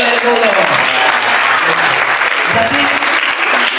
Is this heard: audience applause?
yes